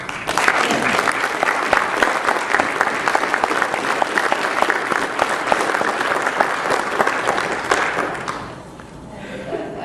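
Sustained applause from the audience at a forum on gun violence, dense and loud for about eight seconds before tapering off quickly into quiet.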